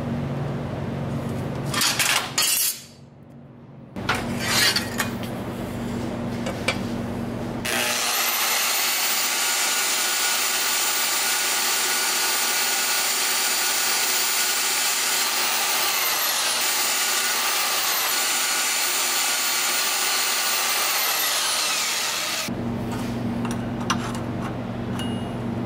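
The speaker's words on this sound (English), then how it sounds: "Grind this edge down some." A power tool grinds down a metal edge on a Miata, a loud, steady high-pitched whine running for about fifteen seconds, framed by brief bursts of work noise before and after.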